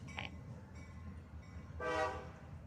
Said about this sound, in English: Oh, there's a train. Yeah, we're right by a train track.